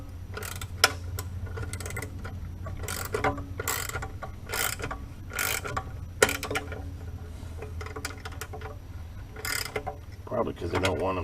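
Ratcheting wrench tightening stiff bolts on a WEN 4276 6-inch bench grinder during assembly, a series of sharp clicking bursts repeating in short runs, close and fairly loud, with someone speaking briefly in between.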